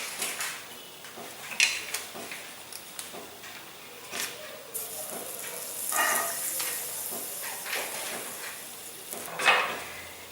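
Butter sizzles and hisses in a pan heated for an omelette, a steady frying crackle with occasional clinks of utensils and pan, moderately close and alone.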